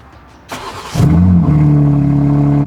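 A BMW M3 engine cold-starts with a brief starter whirr, then catches with a loud rising flare and settles into a steady, high-idle drone.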